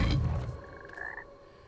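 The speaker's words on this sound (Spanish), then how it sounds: "es un sapo morado gigante" Giant purple toad in Hogwarts Legacy, a single short croak with a rising, buzzy tone, clear and close, following a brief louder burst of game sound.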